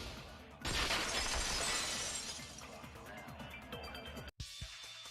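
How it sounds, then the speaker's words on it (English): A vase shatters in the Danganronpa 2 video game: a sudden loud crash of breaking ceramic, followed by scattering, tinkling shards that fade before a sharp cut. "If it wasn't the window, then what broke to make that sound? A vase."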